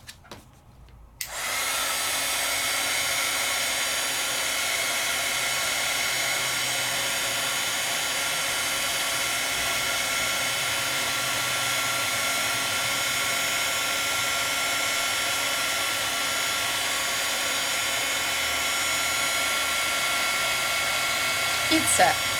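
A heat tool blasts a steady, loud, continuous whir for about twenty seconds while setting embossing powder, starting abruptly after a brief quiet moment and holding an even airflow hum throughout.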